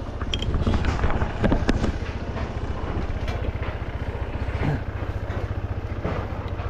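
Motorcycle engine droning steadily on a short ride to a groundbreaking ceremony site for the Santa Ignacia project, with wind buffeting the microphone and a low, continuous rumble throughout.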